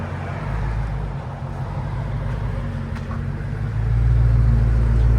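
A Dodge Challenger SRT Hellcat with a 6.2L V8 gives a deep, steady idle rumble from its engine and exhaust, close and loud, swelling slightly toward the end as it begins to pull off.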